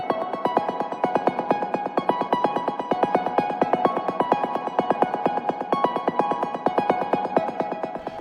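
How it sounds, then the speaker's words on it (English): Ambient synth pluck from the HS Different Model preset in Zebra, processed with spacey effects and EQ, repeating in a steady, even stream of soft plucked notes at a moderate level with no other sounds. "This is a pluck sound, like an ambient pluck. It's called HS Different Model."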